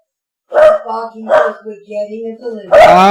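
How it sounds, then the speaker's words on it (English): A dog barks close by, two sharp barks followed by a drawn-out whine and another loud bark. "Sassy is barking because the UPS guy is here"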